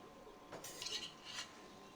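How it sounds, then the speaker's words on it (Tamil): A spoon stirs mutton biryani masala in a metal pot, a few quiet scraping clinks of utensil against pan, close and soft with no talk. "நல்லா அந்த மசாலாலாம் சேர்ந்து வர வரைக்கும் கிளறிட்டே இருக்கலாம்."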